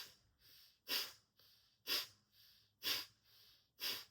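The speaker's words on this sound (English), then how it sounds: "We're going to begin by inhaling through the left nostril, exhaling through the right" Controlled nasal breathing in a yoga kriya practice, in through the left nostril and out through the right: four strong, rhythmic exhalations alternating with softer inhalations, close and airy with no talk.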